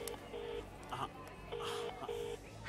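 Telephone keypad tones beep in short steady bursts as a number is dialed to call a girl, several separate tones spaced unevenly over a faint background with no talk.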